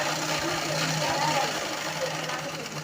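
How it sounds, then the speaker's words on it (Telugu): A sewing machine runs steadily while stitching a long frock, a continuous mechanical whirr with a rapid needle rhythm, close and moderately loud throughout. "ఇప్పుడు ఇటు సైడ్ నుంచి స్టిచ్ చేసేయాలండి."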